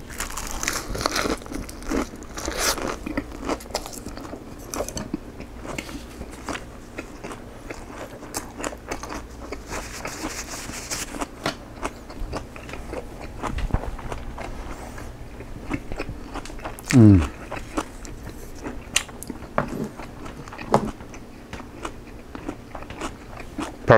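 Crisp, crunchy bites and chewing of a pork belly lettuce wrap with garlic and paste, close and fairly quiet, with scattered crinkles and crackles throughout.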